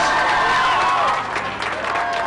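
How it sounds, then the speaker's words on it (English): Indoor applause at the opening of the Virgin Megastore in London, in the 1990s, a steady dense clapping from a crowd, loud and sustained, with faint voices mixed in. "Round of applause, please."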